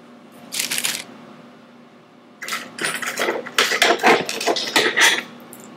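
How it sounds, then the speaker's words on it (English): Scissors snipping strands of yarn cut to length for doll hair, a short burst of crisp cuts followed by a denser run of quick, close snips with soft handling rustle between them. "we're going to cut a bunch of strands of yarn that are approximately twice the length you want the hair to be"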